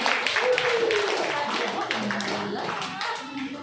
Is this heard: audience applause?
yes